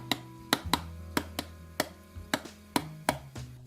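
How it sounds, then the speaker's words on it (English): Ground espresso coffee knocked out of a filter basket into a small wooden bowl, a series of about nine sharp, close wooden knocks at irregular intervals. "I'm just gonna dump the coffee into it"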